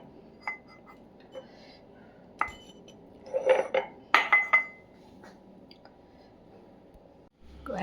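Dishes, pots and utensils being washed, with sparse clinks and clatters of metal and ceramic, a few louder clusters of knocking, scraping and rattling against a quiet room background, no talking.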